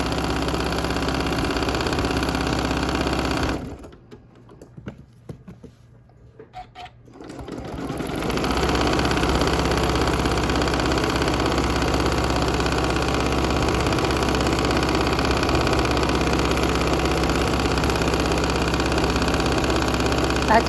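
A domestic sewing machine free-motion quilts a T-shirt memory quilt with a close, steady mechanical whir that stops for a few seconds of near quiet, then resumes at a constant pace.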